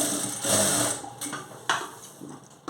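A sewing machine runs in quick, close bursts, stitching thread piping onto a blouse, with brief pauses between runs of stitches and no talking.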